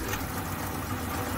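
Gingery milling machine transmission running in third gear high range, a steady, fairly faint mechanical whir and hum with no breaks, alone without talk.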